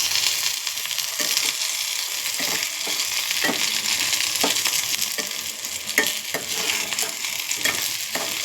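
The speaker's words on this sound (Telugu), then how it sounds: "చూడండి ఫ్రెండ్స్, వంకాయలు వేగినాయి బాగా." Eggplant pieces fry in a pan for a spicy eggplant chutney, giving a steady, loud, close hiss of sizzling oil with occasional soft stirring clicks and no voices.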